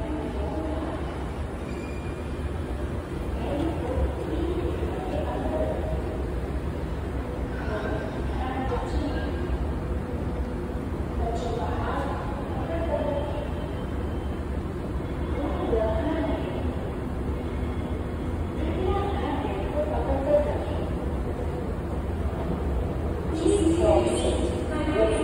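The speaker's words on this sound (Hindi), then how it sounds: "सकाळची सगळ्यात पहिले लागणारी मेट्रो PCMC." Underground metro station in Pune, with a train pulling in: a steady low rumble and faint wheel squeal run throughout, rising slightly near the end, and voices can be heard underneath.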